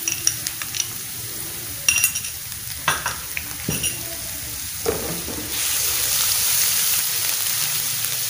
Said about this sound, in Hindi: अभी डाल देते हैं लहसुन और अदरक को, साथ भून लेते हैं।